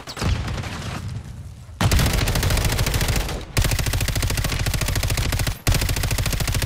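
Sustained automatic gunfire in Call of Duty Warzone, loud and dense, rapid bursts repeating with a few brief gaps, no talking over it.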